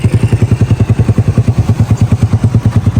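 A Yamaha YBR125 motorcycle revs hard during a 0 to 100 acceleration test, its single-cylinder engine giving a loud, steady, rapid pulsing putter close to the microphone.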